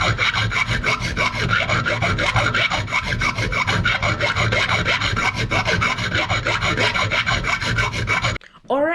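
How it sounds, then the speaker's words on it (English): Rasping, rubbing abrasion of an aluminium ring being sanded smooth on the inside while turning on a lathe, continuous and steady at close range for most of the clip before stopping abruptly near the end. "I've finished sanding the inside so that it's smooth."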